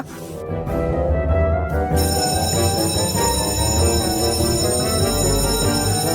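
A bright electronic bell rings continuously over a loud, busy music bed, steady and sustained for several seconds.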